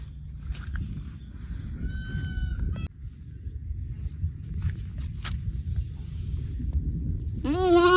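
A goat lets out a loud, quavering bleat at the very end, following a stretch of outdoor ambience with a distant rooster crow and occasional clicks.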